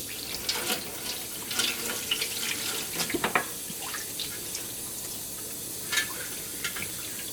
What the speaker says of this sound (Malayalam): ഇത് നന്നായിട്ടൊന്ന് കഴുകിയെടുക്കുക